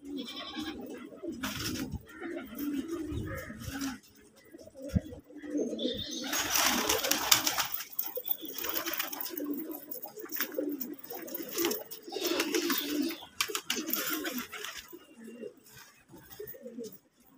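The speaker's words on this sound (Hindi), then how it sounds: "ये मिठू कबूतर है जी, ये रहा।" Pigeons kept for racing or breeding coo and call repeatedly near the microphone, with rustling and a few other animal sounds in the loft.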